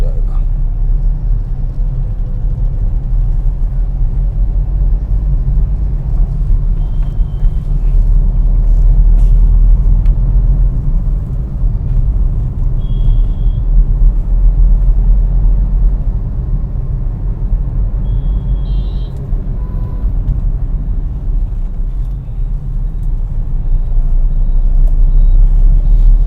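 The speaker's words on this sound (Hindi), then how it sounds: "तो बस अब धीरे धीरे ट्रैफिक आपको यहाँ मिलना शुरू हो जाएगा।" Steady low road rumble of traffic building up at school closing time around 3:30, engines and tyres droning continuously from nearby, with someone talking over it throughout.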